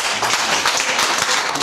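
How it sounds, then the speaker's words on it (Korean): An audience at a sea-salt industry forum gives dense, steady applause, heard briefly and alone. "우리 안치국 소위원님께 뜨거운 박수 부탁드리겠습니다"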